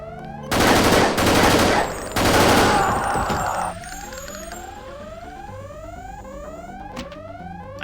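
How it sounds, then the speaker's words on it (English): An alarm in the game Deus Ex wails as a loud repeating rising siren tone, pulsing steadily after bursts of heavy gunfire at the start, continuing alone to the end. "Which one of you hit the alarm?"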